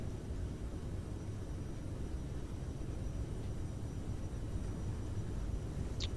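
Airliner engines spooled to full takeoff thrust in a flight simulator game, a steady, loud broadband roar and rumble that holds constant throughout with no talking.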